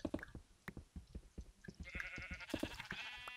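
Sheep in the Minecraft video game bleat in short, nasal calls, a pair near the start and more near the end, over a patter of clicks and small game noises.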